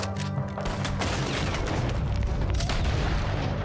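Gunfire in Red Dead Redemption 2: a dense, continuous exchange of shots and booming reports goes on throughout, loud and close, with no talking.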